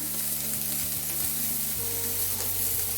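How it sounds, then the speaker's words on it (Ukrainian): Chopped tomatoes and yellow bell pepper with onion frying in a pan for a shakshuka-style breakfast omelette, a steady close sizzle with a few soft stirring scrapes of the utensil, no talking. "Перемішую"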